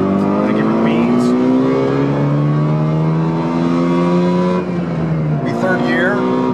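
Two-stroke Subaru 360 car revving hard in second gear, a loud, buzzy engine note climbing steadily in pitch, briefly dipping, then picking up again, with a driver's voice over it.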